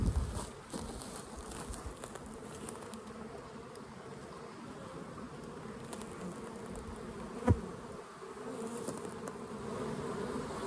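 Honeybees buzz steadily from crowded hive boxes in a busy apiary, a continuous near drone with a brief sharp knock partway through.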